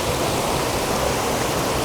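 Waterfalls on Madeira pour with a dense, steady roar of rushing water, loud and close, broadband and unbroken, heard alone without speech.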